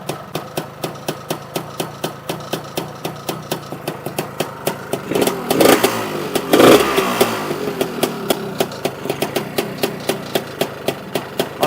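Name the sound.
Lambretta scooter engine running with BGM Pro MZ30 exhaust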